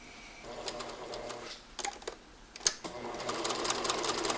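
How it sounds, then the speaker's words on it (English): A sewing machine stitches two blouse yoke pieces together in quiet, short bursts of rapid mechanical clatter separated by brief pauses, fairly soft and close, with a voice talking faintly in the background. "then we're going to sew these two bits together"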